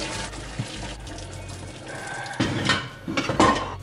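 Cold water pours from a tap over boiled sausages in a metal pot, a rushing splash with clanks and scrapes of cookware, close and fairly loud, with no talk.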